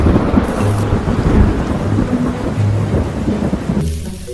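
Heavy rain pours down in a thunderstorm, a dense loud hiss with deep rolling thunder rumbling underneath for several seconds before cutting off abruptly near the end.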